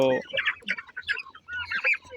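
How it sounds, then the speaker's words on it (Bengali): Short, rapid clucks and gobbling calls from a few turkeys and chickens, close by, in quick overlapping bursts. "টার্কিগুলা মুরগির সাথে পালতেছি"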